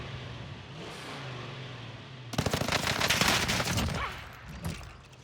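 Automatic gunfire in the Warzone video game, a sudden loud burst of rapid shots that cuts in after a quieter stretch and rattles on for a couple of seconds before tailing off, with one more thump near the end.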